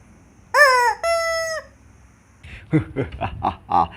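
Two loud squeaky squawks from a rubber chicken, the first rising and wavering, the second a steady held honk, followed by a few shorter squeaky bursts.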